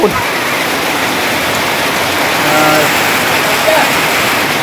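Sudden heavy rain pours down in a dense, steady roar, loud and close, washing over freshly applied flat latex paint, with faint voices underneath.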